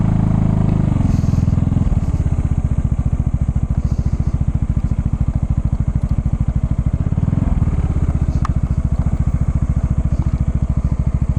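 A motorcycle engine runs loud and close with a steady, throbbing pulse, the revs rising and straining slightly as the bike climbs.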